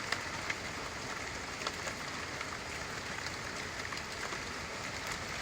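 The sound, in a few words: rain falling outdoors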